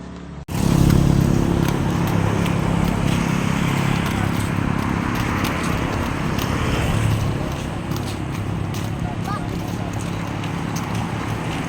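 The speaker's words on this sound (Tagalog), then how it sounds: "Oy, may motor." A motorcycle engine drones nearby at a steady pitch, holding loud and then slowly fading as it passes, with people talking over it.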